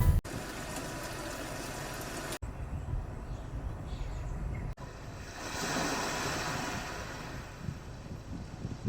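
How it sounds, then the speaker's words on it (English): Recorded ocean surf played through the cabin speakers of a Hyundai Palisade, a soft steady wash of waves that swells gently midway, quiet and even with no voices. "Heck, you can even put on the sounds of nature."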